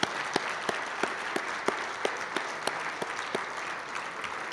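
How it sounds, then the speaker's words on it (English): A luncheon crowd at an awards event gives a modest round of applause for a long-serving member, with regularly spaced sharper claps standing out from the softer room sound. "so let's give him a round of applause."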